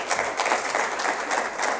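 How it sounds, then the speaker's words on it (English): An audience at a conference session claps to welcome a presenter, a short burst of brisk, steady applause from a moderate crowd in a room, with no talking over it. "So round of applause for Grace."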